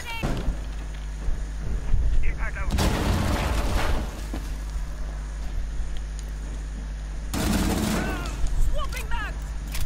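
Gunfire in the video game Rainbow Six Siege: loud bursts of shots around the three-second mark and again near eight seconds, over steady game ambience, with players talking and laughing.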